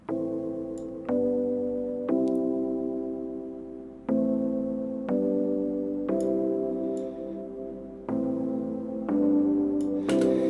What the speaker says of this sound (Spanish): el sonido no se está yendo hacia atrás, pero sí se está llenando de una cola de rever